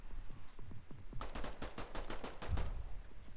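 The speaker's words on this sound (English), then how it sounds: "He's shooting me." Rapid bursts of gunfire from the Fortnite video game, a quiet stretch of scattered single shots followed by a dense automatic volley, with no talk over it.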